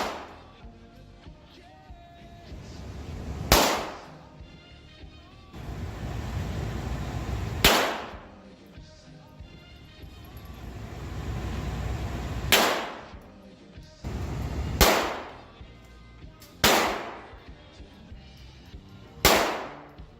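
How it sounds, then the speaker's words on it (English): Sharp pistol shots at Olympic-style pistol shooting practice with a university pistol team, six or seven loud single reports spaced a few seconds apart, with a quiet room hum between them. "Let's look at some Nanzan students who were able to practice shooting with the pistol team."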